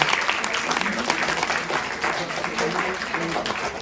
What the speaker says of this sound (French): J'aimerais qu'on les applaudisse très très fort